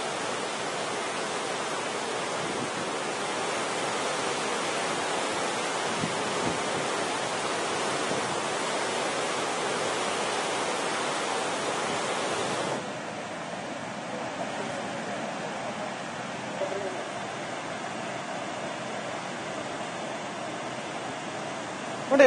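Fast, swollen Krishna river running above danger level, a steady broadband rush of water that stays loud throughout, then drops slightly in level about halfway through as the roar continues without voices.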